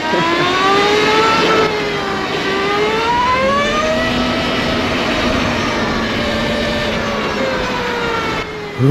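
An Energica Eva electric motorcycle accelerating, a loud rising and falling electric whine with stepped harmonic sweeps that climb and drop as the bike speeds up, steady and close throughout.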